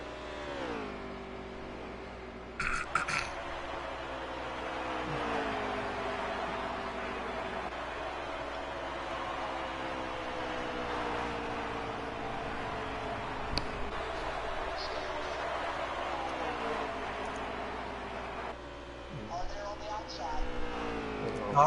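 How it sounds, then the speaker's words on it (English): A black and red No. 42 Chevy Camaro race car in NASCAR Heat 3 pulls away from pit road, its engine droning and revving through steady rising gear pitches, with other cars whooshing past, under a continuous mid-level roar. "There you see his 42 black and red Chevy Camaro leaving."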